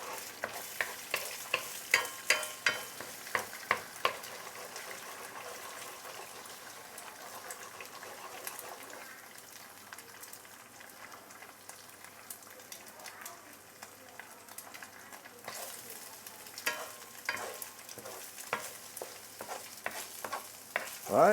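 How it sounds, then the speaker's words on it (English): Egg and browned ginger stirred together in a hot pan for a yellow rice wine beehoon soup, a steady sizzle of frying under repeated scraping strokes of a utensil, close and continuous. "then we can mix the egg and also ginger together"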